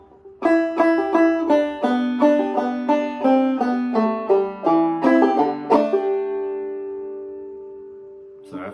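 A clawhammer banjo plays the descending lick from Loch Lomond as a quick run of bright plucked notes stepping downward, then a final note rings out and slowly fades, close and clear.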